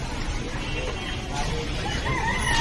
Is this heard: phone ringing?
no